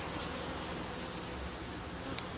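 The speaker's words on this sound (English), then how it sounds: "Lots of bees on the lid." Honey bees hum around an open beehive, with many on the lid, as a steady, dense, close buzz continuing without pause and no voices.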